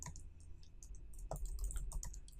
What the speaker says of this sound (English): So I'm just using the keys, the down arrow and tab, and enter.